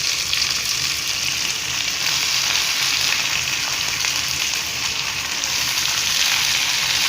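Drumstick leaves frying in a pan with onions: a loud, dense, continuous sizzle and crackle of hot oil, close and steady throughout, with no speech.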